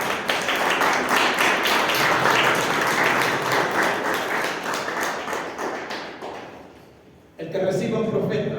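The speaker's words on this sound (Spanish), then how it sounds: "Denle un aplauso al Señor." A church congregation bursts into sustained applause, dense clapping filling the space for about seven seconds before fading, then a voice picks up speaking right after.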